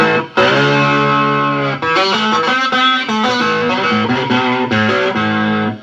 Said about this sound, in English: You may notice that distortion has a different tone. It's because I got the tone settings on the distortion pedal slightly different.